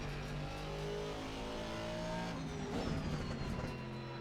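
A race car engine hums in a steady, fairly faint tone, then its pitch climbs smoothly as the car speeds up out of a corner, with a slight rise in loudness partway through.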